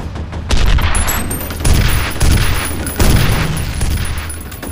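Gunfire in the game F.E.A.R. Extraction Point, a run of loud, booming shots in separate bursts roughly a second apart, each with a ringing tail, close and dominant.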